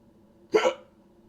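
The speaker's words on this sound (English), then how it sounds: "And now I have the goddamn hiccups." A single close hiccup, a short sharp gulp with a little voiced catch right after, standing alone against near silence.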